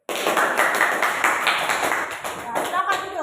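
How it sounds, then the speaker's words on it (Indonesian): A classroom of students claps their hands together at close range, a lively patter of overlapping claps with voices mixed in beneath, fading slightly toward the end. "Tepuk tangan dulu."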